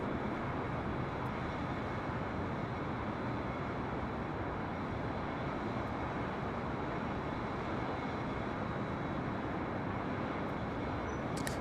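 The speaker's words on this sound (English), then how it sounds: "this is Breeze Airways Flight 299 heading back to White Plains, New York, in this Airbus A220-300" Airbus A220-300 jet airliner, a brand-new Breeze Airways aircraft at LAX, heard as a steady, even broadband roar with constant loudness throughout, with no voices.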